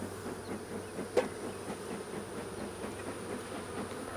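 A thick swarm of honey bees hums steadily around an open hive during a hive merge, a constant close buzzing drone with one brief knock partway through and no voices.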